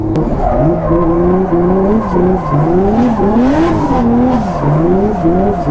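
A race car driving hard with a loud, close engine drone rising and falling through gear changes, its pitch bending continuously, with possible tire squeal mixed into the roar.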